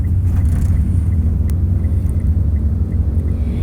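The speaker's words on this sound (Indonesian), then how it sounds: "Sekarang aku udah di mobil." Loud, continuous low rumble from inside a moving car, an even close drone with a faint brief click partway through and no voices.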